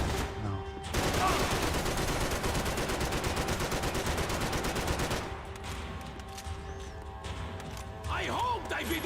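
Sustained gunfire in the video game Max Payne 3, a dense rapid burst of shots fired at an armored door that runs for several seconds before cutting off, loud and close, followed by quieter game ambience.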